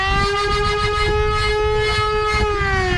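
A toy foam dart blaster's flywheels at lowest power: a continuous electric motor whine holding a steady pitch that slowly sags, with a rough whirring rumble underneath, close and unbroken.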